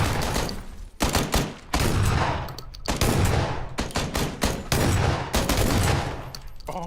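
Gunfire in the video game PUBG comes as a loud, dense run of close shots, several heavy blasts in quick succession that fill the clip with no break between them.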